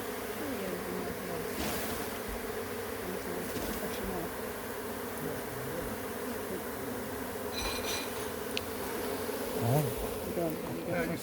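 A delivered bee swarm hums steadily, a dense, continuous buzzing of many bees at a low, even level, with a few faint clicks and knocks in the background and no talk.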